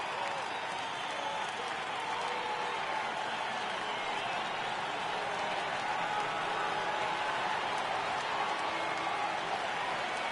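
A stadium crowd of over 39,000 cheers in the baseball video game MLB The Show 18 at Yankee Stadium, a dense continuous roar holding steady throughout.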